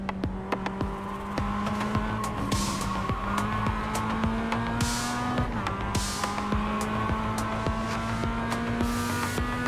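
A Mazda MX-5 Cup race car in iRacing holds a steady, buzzing engine drone throughout, with its pitch shifting through gear changes and brief tire squeal along the way.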